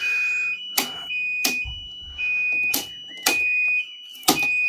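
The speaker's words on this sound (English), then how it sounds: "It appears I've got a security alarm" A security alarm sounds during a consumer unit upgrade in a house in Plymouth: a steady high electronic tone interrupted by five sharp, loud beeps that fall at roughly one-second intervals.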